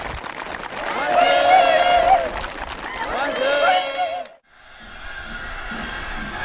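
Enthusiastic applause and cheering from a crowd at a house-warming ceremony for new homes in Kangwon province, loud and sustained with voices mixed in, breaking briefly before a quieter stretch of continued clapping.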